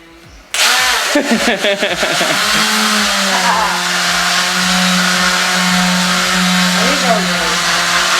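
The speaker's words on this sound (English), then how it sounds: "show everyone how you sand." A power sander smooths wooden trim. It starts abruptly, whirs up unevenly, then settles into a loud, steady, close motor whine, with voices faintly underneath.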